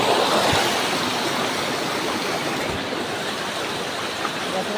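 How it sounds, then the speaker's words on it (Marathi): Water rushes steadily through a dam, a loud and unbroken broadband roar like a waterfall that holds even for the whole stretch. "पाणी बघा कसं होते."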